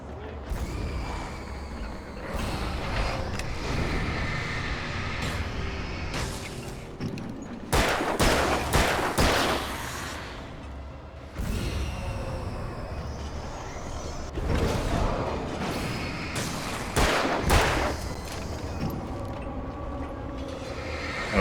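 Shots fired at an enemy in the Alan Wake game: scattered gunshots and clusters of blasts over a constant rumbling, mechanical, creaking background, at moderate level with faint talk at times.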